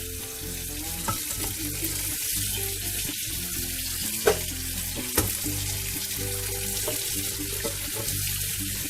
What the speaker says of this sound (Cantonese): 開水喉沖佢一陣就可以解凍噶啦